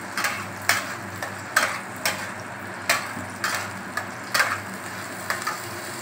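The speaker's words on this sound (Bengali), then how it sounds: "এবার আমি এটাকে ভালো করে কষবো যতক্ষণ না তেলটা না ছাড়ে।" Onion paste and slit green chillies frying in oil, a steady soft sizzle punctuated by regular scraping strokes of a spoon every half second or so, close and moderately quiet with no talking.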